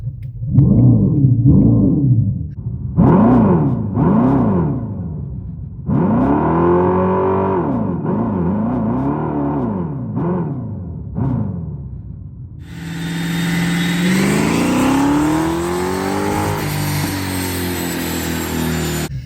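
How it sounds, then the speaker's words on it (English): A Dodge Charger Daytona EV's synthetic exhaust note revs up and down in repeated rising bursts, then settles into a loud, sustained high-pitched drone. "it's going to give you that little bit louder exhaust noise, and now you're able to actually rev it up"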